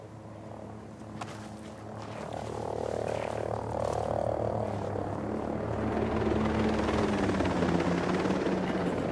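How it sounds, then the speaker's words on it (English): A helicopter passes overhead in the Ghost Recon Breakpoint game, its rotor drone building from moderate to loud and then holding steady, with a continuous throbbing hum and no talk. "We got a chopper overhead."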